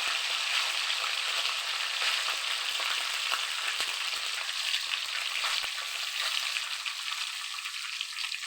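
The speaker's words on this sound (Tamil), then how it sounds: "மிளகாய், காஞ்ச மிளகாய் போட்டுக்கலாம், கருவேப்பிலை போட்டுக்கலாம்" Dried red chillies and curry leaves fry in hot oil with a steady, bright sizzle and scattered crackles and pops, close and continuous, no voices.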